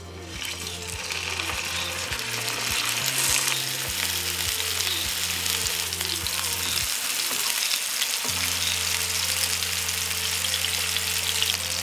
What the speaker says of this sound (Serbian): pljeskavice na zagrejano ulje.